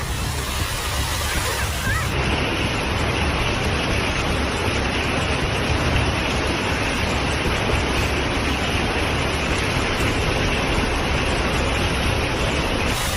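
Steady, loud rushing roar of heavy rain and wind from a sudden hailstorm in Nanjing, China, continuous and unbroken throughout, with no voices.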